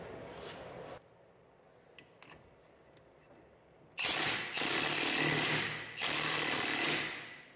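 Impact wrench tightening the pinion nut on a Jeep Wrangler JK Rubicon Dana 44 differential during a re-gear, heard as loud, harsh rattling bursts of about a second each, starting at mid-clip after a quiet stretch with faint clicks.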